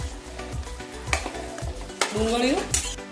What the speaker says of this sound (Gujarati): ગોળ નાખ્યા પછી આપણે હલાવી